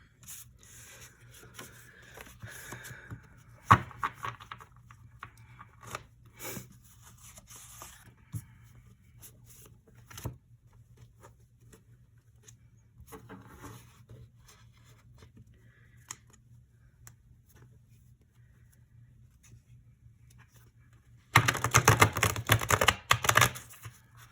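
Soft rubbing and riffling of tarot cards, gentle and close, with scattered taps and a louder burst of rapid shuffling near the end.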